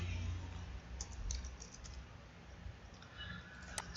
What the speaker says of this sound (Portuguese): eu vou digitar aqui teste de texto